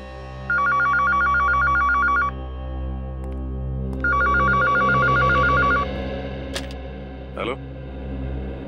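A telephone in a Hindi TV crime drama rings in two long trilling bursts with a pause between, over a low rumbling hum, followed by a couple of faint clicks.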